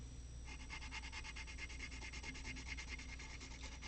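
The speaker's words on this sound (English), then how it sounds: "And just burnish it." Colored pencil burnished on paper in a coloring book, a soft, close, rapid back-and-forth rubbing with steady rhythmic strokes, quiet and continuous.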